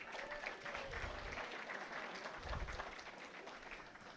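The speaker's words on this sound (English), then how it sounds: "So give yourselves a round of applause" An audience at a storytelling evening applauds itself, a soft, steady wash of many hands clapping heard from a distance for a few seconds without any voices.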